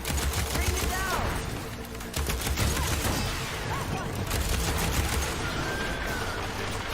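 Rapid, crackling weapon fire from the video game Horizon Forbidden West, with repeated shots and impacts running steadily amid a busy in-game battle mix, and voices heard now and then.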